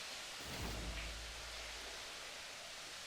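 Steady indoor rain from the video game Resident Evil 7 hisses as a faint, even wash of falling water, with a soft low rumble swelling briefly near the start.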